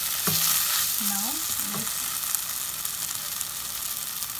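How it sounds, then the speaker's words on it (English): Yogurt chicken curry mixture fries steadily in a pan with a soft continuous sizzle, while a spoon scrapes and stirs through it in a few brief strokes near the start. "And fry this mixture for about 3 minutes, 2 to 3 minutes."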